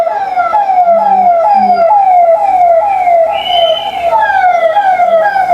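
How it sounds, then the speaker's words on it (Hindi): Siren hooters on a politician's convoy car passing on a road in India, a loud, close, repeating falling wail cycling about twice a second, with a brief higher whoop partway through and traffic rumble underneath. "ये हूटर्स आपको सुनाई दे रहे हैं ना?"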